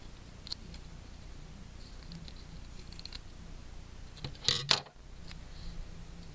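Scissors snip through duct tape while making a flower ring, a short cluster of crisp cutting sounds around the middle, fairly close but quiet, with a faint hum otherwise.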